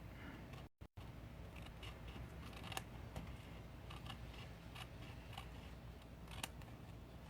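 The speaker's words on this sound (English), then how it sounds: "I'm just going to cut it." Scissors cutting pre-cut card paper for a handmade shaker card: faint, close snipping and crisp paper rustles, a few sharp snips scattered through a quiet room.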